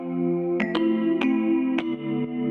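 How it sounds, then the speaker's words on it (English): A melodic, reverb-soaked piano sample with a chime-like tone plays alone, its bright struck notes ringing out over a sustained wet wash. "I have this piano sample that runs through it, and it sounds like this."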